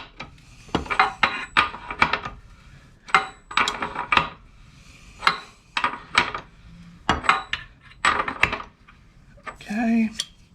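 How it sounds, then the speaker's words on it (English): A wrench works loose the rear axle nut on a Suzuki GSX-S1000 motorcycle, giving a series of sharp metallic clicks and clanks in short bursts over about ten seconds, close and fairly loud. "the first thing you want to do is break your axle nut, crack it"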